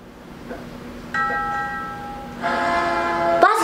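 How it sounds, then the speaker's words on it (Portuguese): A passing train in the Crossy Road video game: a tonal horn-like chime sounds, then a louder rush of the train with a brief clatter at the end, game sounds alone without talk. "Foi um trem aquilo ali?"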